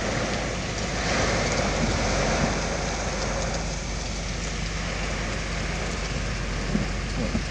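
Heavy typhoon rain pours down in Kagoshima as a dense, steady roar that floods the whole sound, with occasional louder splashes and no voices.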